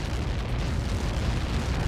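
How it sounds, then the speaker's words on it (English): A missile impact explodes in the jet combat game Ace Combat 7, giving a loud, sustained roaring blast with heavy low rumble that fills the whole moment without pause, and no voices over it. "How many got caught in that explosion?"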